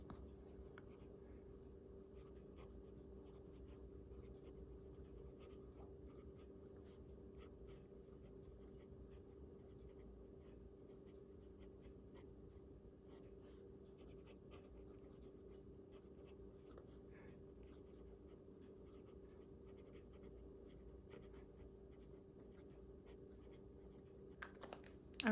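Pen scratching steadily across journal paper with gold-shimmer ink, a faint, continuous close-up rustle over a low background hum, with no talking.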